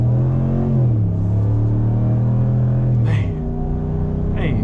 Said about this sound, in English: Man, ain't nothing like a Hemi V8